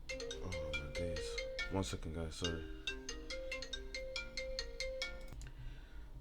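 A mobile phone ringtone for an incoming call plays a bright, repeating melodic pattern of beeping tones for several seconds, with someone talking over it.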